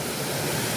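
A forest waterfall pours water down from above, a steady, dense broadband rush with no breaks, loud and close throughout.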